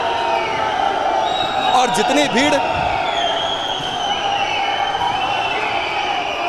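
Hundreds of protesters surge forward at a Shimla masjid demonstration, their dense, steady crowd roar filling the street while a reporter talks loudly over it.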